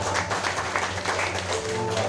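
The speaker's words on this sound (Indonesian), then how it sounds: "Boleh berikan tepuk tangan bagi Tuhan." Church congregation applauding during a Saturday worship service, a steady dense wash of clapping throughout with a low hum underneath.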